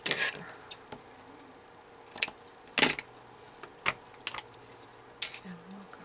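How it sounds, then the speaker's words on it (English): Scissors cut paper for a handmade Little House on the Prairie themed journal, heard as several short, separate snips spaced irregularly, close and fairly clear with no talking. "So I need to cut it right there."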